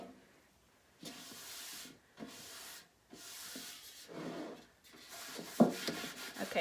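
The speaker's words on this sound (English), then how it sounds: "just rubbed a little bit of wax on there" Wax is rubbed onto a painted wooden tray in several bursts of soft, close scratchy rubbing, separated by short quiet gaps, with a few light taps near the end.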